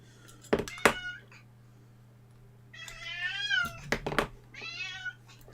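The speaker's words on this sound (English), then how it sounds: "Here's my cat." A domestic cat at a home electronics workbench lets out two drawn-out, wavering meows, close and moderately loud, after a couple of dull knocks.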